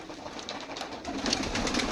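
A flock of domestic pigeons, including Sirazi pigeons, coo steadily at feeding time against a dense, noisy background.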